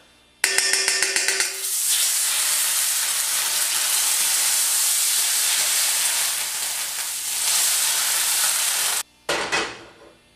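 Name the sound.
Benecol spread melting in a hot pan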